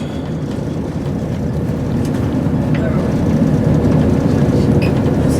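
A diverted train waiting at a station stop gives off a steady low rumble and hum, fairly loud and constant, with faint higher clicks and creaks above it.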